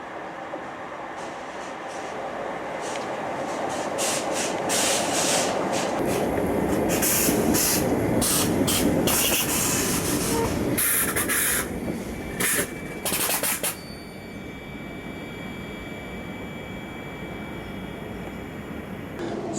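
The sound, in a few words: train arriving at Rugeley Town railway station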